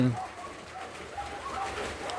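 Pigeon cooing, a bird meant for roasting at a birthday celebration, soft low repeated coos heard close by over a steady background hum.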